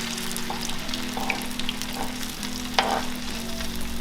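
Corviche, an Ecuadorian fritter, crackles and sizzles steadily in hot oil in a pan as it browns on its second side, with small pops and spatters over a continuous frying hiss.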